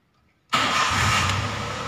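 A Daihatsu Xenia engine cranks and catches abruptly after a moment of near silence, then settles into a steady, loud, close idle.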